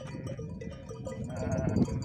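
A newly arrived flock of sheep and rams in the Turkish highlands, several overlapping bleats close by with a continuous herd murmur.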